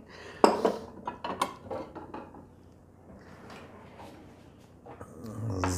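Plates and dishes clink and clatter in a few sharp knocks, then quieter rattling, with a louder clatter at the end.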